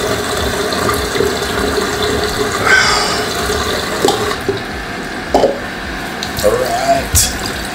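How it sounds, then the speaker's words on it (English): Water sloshing and splashing while black-and-white Tri-X film is developed at home, spilling from a full developing tank; steady running-water wash with several brief splashes and knocks, close by with no talk. "Getting water all over the place."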